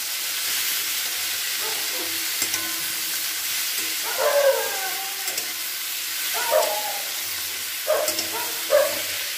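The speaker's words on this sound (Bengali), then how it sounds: "এটাকে দিয়ে ভালো করে একটুখানি মশলাটাকে কষিয়ে নিচ্ছি।" Chopped tomato sautéed with spices in a pan for a Bengali drumstick curry, a steady loud sizzle and hiss throughout, with a few scraping stirs of a spatula breaking through in short bursts near the middle and end.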